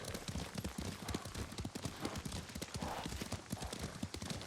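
Horse hooves clip-clopping at a steady riding pace in the Ghost of Tsushima video game, a continuous rhythmic patter of fairly quiet hoofbeats with faint voice in the background.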